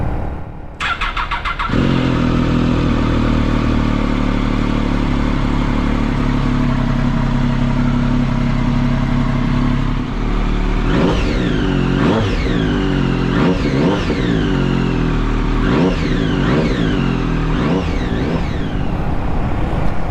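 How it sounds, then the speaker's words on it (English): A Triumph Daytona 675 triple-cylinder motorcycle engine cranks and catches, settles into a loud, steady idle close by, then gives a series of sharp throttle blips in the second half. "It's always nice to hear a Triumph triple running."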